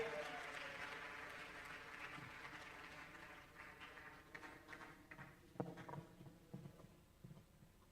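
Audience applause at a swearing-in ceremony for foreign-trained medical and dental graduates, welcoming a guest lecturer as he walks up. Dense, steady clapping fades gradually into scattered, sharper individual claps near the end.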